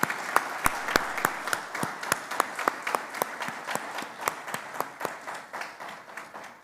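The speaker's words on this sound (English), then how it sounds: "Let's give them a very warm round of applause." At an international law forum, clapping comes as sharp, distinct, evenly spaced claps, a small number of hands slapping in a steady rhythm over a soft bed of scattered applause that gradually tapers off.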